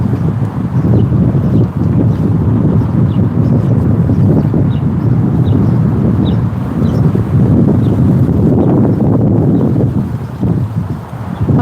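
Strong wind blows outdoors and buffets the microphone, making a loud, steady low rumble that swells and fades in gusts.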